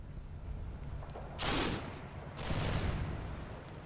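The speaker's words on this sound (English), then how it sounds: "we're putting some area fire out on this building here" Two bursts of area fire from Combat Mission: Battle for Normandy on a building rattle out as sustained volleys of gunfire, the first sharp and brief, the second longer and heavier, over low background rumble.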